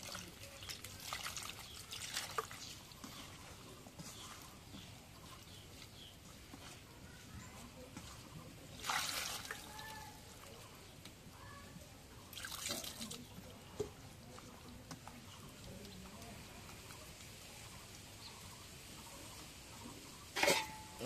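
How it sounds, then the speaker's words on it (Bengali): Water is poured into a hand-mixed mixture containing dried fish: faint, quiet trickling and pouring comes in a few short splashy bursts over a low, steady background. "এখন একটু পানি দিয়ে দিই পরিমাণ মতো"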